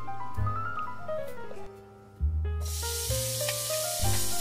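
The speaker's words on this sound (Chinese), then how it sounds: "烧热的锅放入油" Oil hits a heated wok and breaks into a bright, steady sizzling hiss about halfway through, heard over background music.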